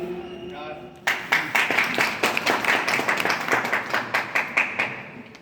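Rhythmic hand clapping, steady and fairly loud, beats along in time during a devotional Hindi song performance, with singing voices over it.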